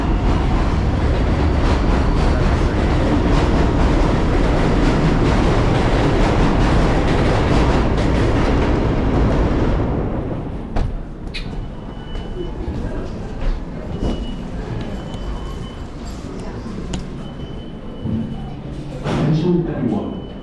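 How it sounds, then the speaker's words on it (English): A Manhattan-bound 7 subway train in Corona, Queens passes with a loud, close roar and wheel rumble for about ten seconds, then fades into quieter street ambience with scattered clanks and speech. "Manhattan bound 7 trains will not stop at 111th Street and 82nd Street"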